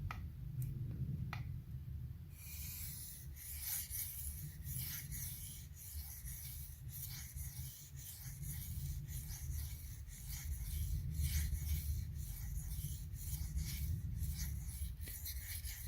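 A modded Benchmade 940 knife with an M390 steel blade being sharpened, heard as rhythmic rasping strokes of the edge on an abrasive, close and steady with no talking.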